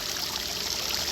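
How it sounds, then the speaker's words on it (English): A pool fountain pouring water into a swimming pool, a steady, close rushing splash with no pauses or voices. "I have water coming in the pool"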